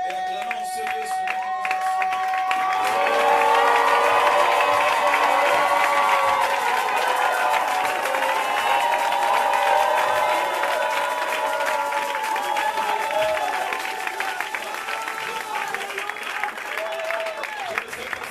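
Church congregation at an Easter convention in Gabon cheering and clapping for God, a loud, sustained swell of applause and voices rising after a quieter start, with a voice carrying above and a fading tail.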